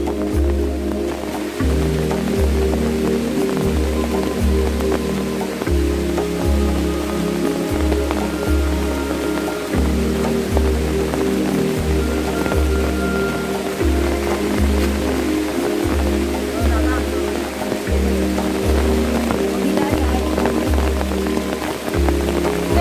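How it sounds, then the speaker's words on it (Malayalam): Heavy rain pours down steadily at Meenmutti waterfall, loud and dense, with repeated low thumping knocks pulsing through the downpour. "ഇവിടെ ഭയങ്കര മഴയാ"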